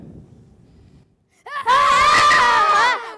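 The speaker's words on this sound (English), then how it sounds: "Why are you screaming?" A sudden loud, sustained scream from a young performer in a school stage play of James and the Giant Peach, bursting out after a quiet moment and lasting over a second before cutting off.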